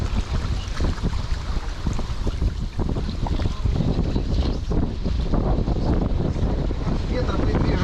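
Wind buffets a sailing boat under its mainsail, a steady rushing roar with gusty rumble and splashy water noise running throughout the whole stretch.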